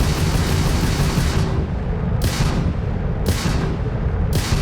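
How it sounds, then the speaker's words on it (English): Repeated ship laser shots in Starfield, a series of sharp bursts spaced roughly a second apart over a dense, constant roar, loud and close. "I'm holding the fire button down."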